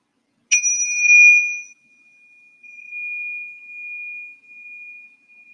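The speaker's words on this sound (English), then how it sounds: "So we will start with one chime" A single meditation chime is struck once, ringing out with a bright clear tone that lingers in a long, slowly fading sustain in an otherwise silent room.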